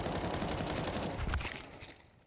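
Rapid gunfire bursts from bullets being sprayed in a competitive video game, a dense crackling stream that cuts off and fades into quieter game ambience.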